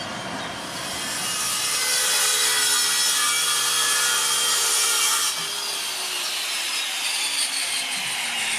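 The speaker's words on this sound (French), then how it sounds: "Entendez-vous le chant de la scie circulaire au fond des marais ?" A circular saw cuts through wood at a watermill with a loud, sustained rasping whine that holds steady for several seconds, then eases slightly, with no talking.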